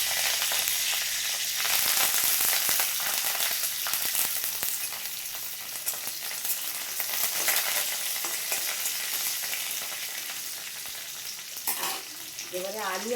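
Black cumin seeds and curry leaves sizzle in hot oil in a wok, a loud close crackling hiss that surges and settles with stirring and keeps sputtering throughout.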